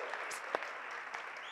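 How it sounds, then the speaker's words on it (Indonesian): A church congregation applauds during a worship service, even, moderately loud clapping filling the room with a few sharper claps standing out. "Mari kasih tepuk tangan dulu buat Tuhan."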